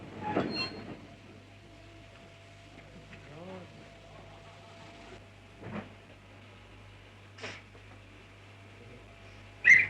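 A 1960 West Highland Railway train runs along single track in a steady low rumble, with occasional squeals and clunks rising over the drone, heard from inside or close by.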